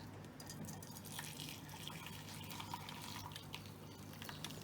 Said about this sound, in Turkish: Evet şimdi de süzüyoruz. Bir süzgeç ve bir tabak eşliğinde.